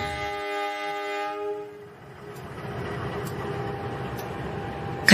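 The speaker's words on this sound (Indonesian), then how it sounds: "kereta pun datang" A loud, sustained train horn blares and then cuts off, leaving the steady rumble of a train rolling in.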